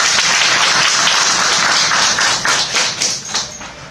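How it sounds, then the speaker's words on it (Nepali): Dense, loud applause from a seminar audience in a hall in Nepal, many hands clapping at once, thinning out and fading over the last second. "जोरदार ताली यहाँ सम्पूर्णलाई"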